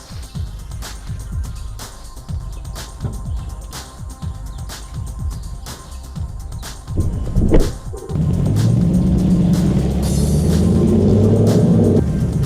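An HSV Holden engine drones steadily while driving, first as a low choppy rumble and then a smoother, louder sustained hum with rising pitch, with no talking.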